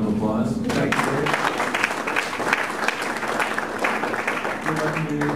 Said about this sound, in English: I guess we can give Dave one more round of applause